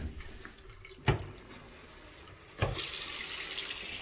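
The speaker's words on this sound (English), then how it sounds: "So we want all of the water to leave the faucets" A cabin faucet is opened full to drain the water lines, giving a brief knock and then a steady, close, rushing stream of tap water pouring into a sink that holds loud to the end.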